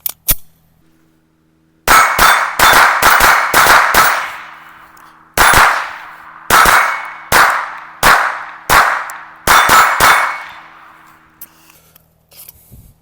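A Glock 19X pistol loaded with 115 grain Federal rounds fires about a dozen sharp, loud, ringing shots outdoors at a range, in quick strings of several shots with short pauses between them.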